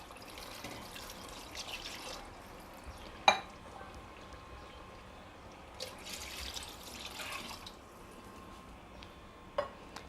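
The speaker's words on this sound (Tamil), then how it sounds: "ஒரு 5 டம்ளர் தண்ணி இப்போ இதில் சேர்த்த போகிறேன்." Water poured into a pot for chicken biryani, a soft continuous splashing and trickling with a few sharp clinks of a vessel, quiet and close.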